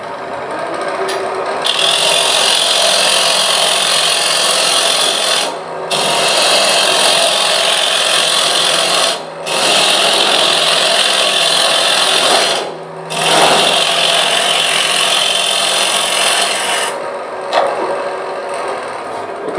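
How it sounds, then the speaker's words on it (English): Wood lathe with a parting tool cutting into a turned hollow vessel, a loud continuous hissing scrape broken by a few brief pauses, close and steady with no talk. "I can get a parting tool in behind it and part it off"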